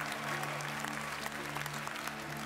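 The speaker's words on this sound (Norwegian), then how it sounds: "Vi gir en stor applaus til Inge-Lise og Lars-Alexander." Studio audience on the Norwegian dance show Skal vi danse 2011 clapping for a quickstep couple, loud, dense and sustained, with a steady musical hum underneath.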